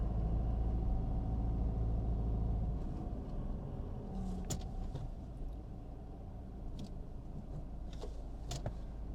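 A manual-transmission car idles and then pulls away, its engine a steady low rumble that eases slightly after a few seconds, with faint clicks and small rattles inside the cabin.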